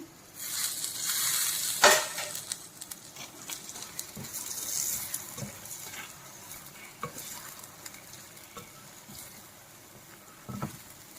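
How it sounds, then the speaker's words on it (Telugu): Mushrooms tipped into a hot pan of curry masala for a restaurant-style cashew mushroom curry hiss loudly on impact, then sizzle steadily under repeated spoon scrapes and stirs, close up and without speech. "ఇప్పుడు మష్రూమ్ వేసుకుందాం"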